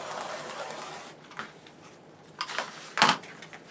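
Cutting pillowcase fabric with a rotary cutter along a ruler on a cutting mat, a faint scrape followed by a few quiet clicks and a sharper knock near the end.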